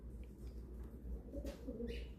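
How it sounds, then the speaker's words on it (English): A pigeon coos softly and faintly in a few low, rounded calls over a steady low background hum, with no talking. "It's a pigeon who's horny."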